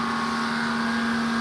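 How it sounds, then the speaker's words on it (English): A grinder running in an engine shop gives off a steady, droning whine with a constant hum and broad hiss throughout, loud and uninterrupted, with no voices. "as soon as Pete's done with the grinder"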